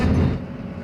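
A Japanese Shinkansen bullet train heading out from Tokyo, heard from inside the carriage as a steady low rumble with a softer, even hum of motion. No voices.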